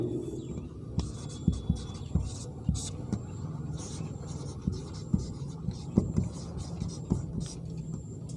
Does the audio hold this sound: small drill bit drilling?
no